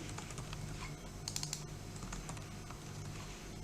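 Typing on a computer keyboard while entering an instruction for students into a media-sorting module, with steady clicky keystrokes and a quicker burst in the middle, alone over a low background hum.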